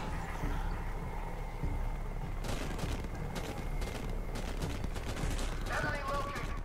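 Gunfire in the video game Deadlight: a dense burst of sharp shots from about two and a half seconds on, layered over a constant loud game soundscape with no talk.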